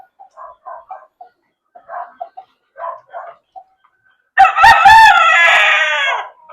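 A gamecock rooster crows loudly and close in a conditioning area, one long drawn-out call that comes in after several short bursts of clucking or low calls from the birds.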